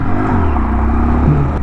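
A 2025 Honda Dax 125 motorcycle pulls away under steady throttle, its small single-cylinder engine humming with a continuous rumbling drone that rises slightly in pitch near the end, heard up close without voices.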